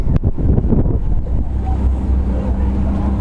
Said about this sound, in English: the wind is picking up and it's gusty